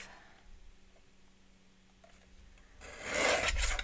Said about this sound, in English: And so I'll go ahead and just trim that off.